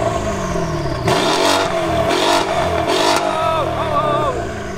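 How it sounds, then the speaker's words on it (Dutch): A Mercedes V8 engine revs hard several times in quick succession, loud and throaty through an aftermarket sporty exhaust, then settles into a burbling idle. "De V8 sound, de bekende Mercedes V8 sound"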